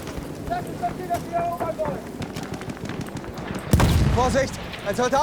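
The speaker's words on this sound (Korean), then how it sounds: "누가 나한테 폭격했어요" Battlefield 1 conquest on the St Quentin Scar map, with a burst of bombardment explosions and gunfire midway through the clip, a loud booming impact over continuous distant battle noise and game effects, with a voice speaking throughout.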